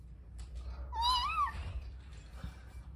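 A single high, rising-and-falling meow, close and clear over a low background rumble; it could be a child imitating a cat.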